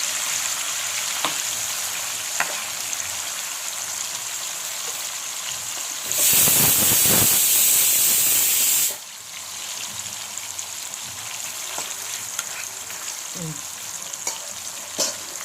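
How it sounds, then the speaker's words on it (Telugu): Raw chicken pieces fry in oil with a continuous loud sizzle and crackle, surging into a burst of intense spitting hiss for a few seconds midway before settling back, with occasional utensil taps and no speech. "పచ్చి ముక్కలు వేయించేయడమేనండి. ఆయిల్లో ఎన్ని ముక్కలు పడితే అన్ని ముక్కలు వేసేసాయి."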